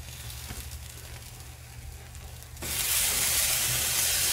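Pambazos frying in oil, a low background hum that suddenly gives way to a loud, bright, continuous sizzle as the bread goes into the hot pan.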